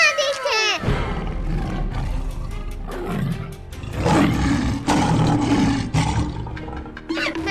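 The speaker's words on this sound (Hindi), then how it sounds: "मम्मी, शेर खान आ गया। भागो।" Tiger roar in a Hindi desi comedy skit, loud and close: a burst of high animal cries opens, then long rumbling roars swell and fade with a voice mixed in.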